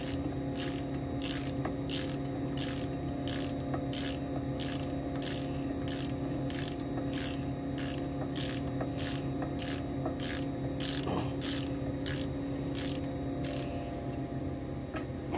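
A hand ratchet clicks in quick, regular bursts as wheel bearing bolts are run in on a 2007 Chevrolet Impala, close and crisp over a steady low garage hum, with no talking.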